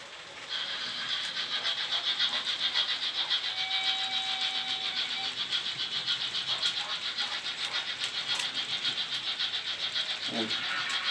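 A model railway locomotive's sound module plays its effects on a club layout, a steady mechanical engine drone with faint squealing tones, heard at moderate distance.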